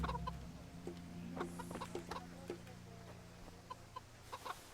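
Chickens clucking in the medieval video game Kingdom Come Deliverance, several birds giving repeated close clucks over a steady low ambient hum, with no one talking.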